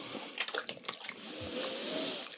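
Fruit being mashed in liquid for homemade cider, a brief burst of wet squelching and sloshing followed by a steady watery swish.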